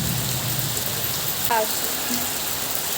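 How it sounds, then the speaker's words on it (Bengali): Heavy rain pours in a steady, dense wash during a storm, constant and close throughout, with a faint brief sound partway through but no clear speech. "প্রচুর বৃষ্টি পড়ছে"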